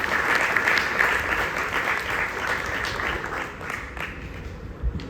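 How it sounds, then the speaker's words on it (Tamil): Applause from an audience honouring the Kadambari Bhajan Mandali after a namasankeerthanam bhajan performance: a steady, dense wash of many hands clapping together, sustained and fairly close for several seconds and heard alone. "அதை வழங்கிய இந்த காதம்பரி பஜனை மண்டலிக்கு ஒரு பெரிய கரகோஷம்"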